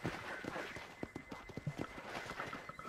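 Horse hooves clip-clop in the video game Red Dead Redemption in a quick, uneven rhythm at moderate distance, with faint talk and ambient noise underneath.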